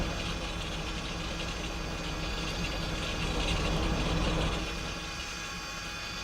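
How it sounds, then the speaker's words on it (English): The number 4 engine of a Felis Boeing 747-200 in X-Plane 12 spools up during start, a steady broadband roar that swells slightly toward the middle and then eases back, heard alone without talk. "Starting engine number 4."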